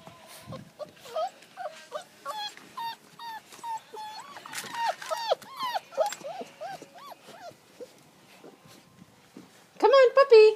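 A puppy in a snowy outdoor setting gives repeated high, thin whimpers and short yips, close by, interspersed with people talking, ending in a louder burst of whining.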